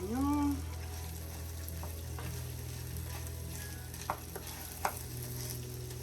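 Onions go into hot oil in a pan, giving a steady sizzle with a couple of brief stirring knocks near the end; no voices.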